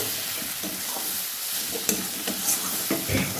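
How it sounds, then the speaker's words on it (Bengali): Masala spices sautéed and stirred with chicken and potato in a pan, a steady hiss of frying under intermittent spatula scrapes, close and fairly loud, without speech. "সব কটা মশলাকে আমি আর একটু হচ্ছে কষাবো যাতে সবকটা মশলা ভালোভাবে হচ্ছে মিশে যায়"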